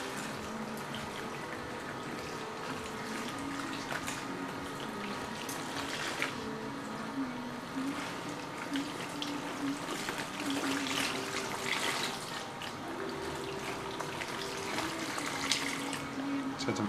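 At a hair salon, a tap runs steadily with a soft, continuous splashing and trickling as water flows over hair into a basin, fairly faint and unbroken for the whole stretch.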